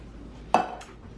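A utensil knocks once against a pot of vegetable broth being stirred, a single sharp close clink followed by a couple of faint scraping taps.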